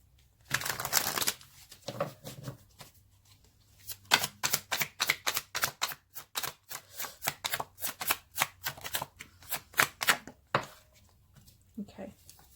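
Tarot cards being shuffled and drawn, a quick rapid riffle near the start followed by a long run of crisp, regular card snaps and slaps, close and fairly loud, with a few softer handling sounds toward the end and no talking.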